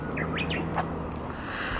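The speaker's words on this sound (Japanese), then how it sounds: "ウグイスがすごいね。" A Japanese bush warbler sings a few short, bright, rising whistled notes in the open air in springtime, heard over a steady low rumble of wind and background noise.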